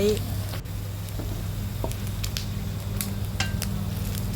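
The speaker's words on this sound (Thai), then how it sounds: "ทอดให้เหลืองทั้งสองด้านนะคะ" Century eggs fry in hot oil in a pan for a Thai basil pork dish, giving a steady close sizzle with occasional clinks of utensil against pan. A voice talks over the frying.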